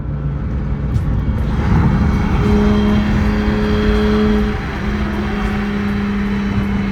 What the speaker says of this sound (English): let you guys hear more of the F80, because this thing does sound sick